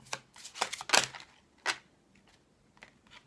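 Playing cards are shuffled and handled for a reading, a few quick, close riffling and snapping bursts in the first two seconds, then softer scattered flicks and taps, with no talking.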